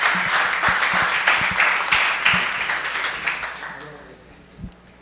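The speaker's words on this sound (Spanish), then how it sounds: "Démosle un aplauso, por favorcito." Audience applause at a Spanish-language session, after an engineering intern is introduced to present; steady clapping from a room full of people fades out over about four seconds, with faint room murmur beneath.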